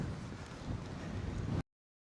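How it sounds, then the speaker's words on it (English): Strong wind buffets the microphone at the ocean shore at Coney Island, New York, a loud, steady low roar that runs for about a second and a half and then cuts off abruptly. "It is windy as all heck out here."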